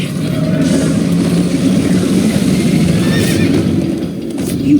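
Horse galloping with neighing in the Minecraft Story Mode video game, a continuous driving patter of hooves under short whinnies around the middle and again near the end, loud and close with no speech.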